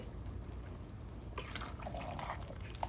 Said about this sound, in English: We're gonna add the rest of this broth here.